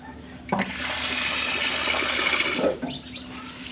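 Water is poured into a container of duck feed for mixing, giving a steady splashing pour that begins abruptly, runs for a few seconds and then stops.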